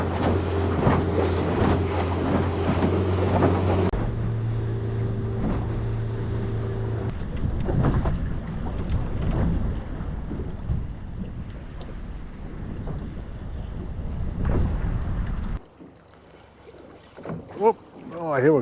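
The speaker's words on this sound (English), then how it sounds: "There's a 20-mile-an-hour wind, but that's meant to die down" Strong wind of about 20 mph buffets a small fishing boat at sea, roaring and gusting against the microphone with steady water and hull noise beneath.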